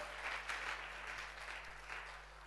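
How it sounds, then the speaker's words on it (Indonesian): A church congregation applauds for God during a sermon, a steady, moderate wash of clapping that runs unbroken over a low electrical hum. "tepuk tangan bagi Allah kita"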